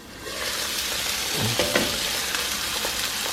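Snapper fish sizzling in a cast iron pan over low heat, a steady broad frying hiss throughout with a few brief spatters and crackles, close and fairly loud.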